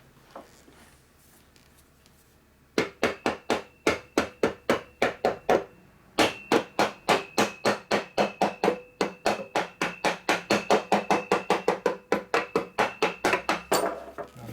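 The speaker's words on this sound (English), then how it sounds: "Mainly tapping on the inside here where the bearing is, because this is a thin aluminum cover here" Rapid hammer tapping on a thin aluminum motor cover around the bearing of a 240V 7-1/2hp Dayton air compressor motor, a few scattered knocks and then dense, sharp, ringing metallic strikes in quick bursts, loud and close.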